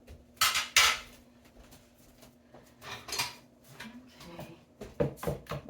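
Batter with egg and mashed banana being stirred or whisked in a bowl, with quick clinking scrapes of utensil against the dish that come in bursts, some loud and close, separated by quieter stretches.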